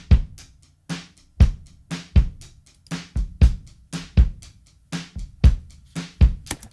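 A live kick drum processed through a tape saturation plugin during mixing thumps out about a dozen deep, punchy hits in a steady rhythm, heard alone and up close with quick decays between strikes.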